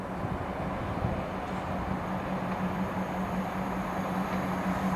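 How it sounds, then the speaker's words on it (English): A Class 170 passenger train passes, heard as a steady broad rumble with an engine drone that holds evenly and fairly loud throughout. "It's coming through now is another Class 170."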